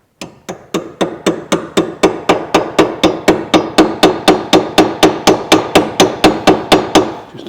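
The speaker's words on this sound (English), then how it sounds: "what we'll do is we'll just tap it in gently with a hammer." Hammer tapping a T30 star drive bit into a bolt on a Corsa C shock and spring assembly: a long steady series of about 25 sharp metallic taps at an even, brisk rhythm, close and loud, with no talking.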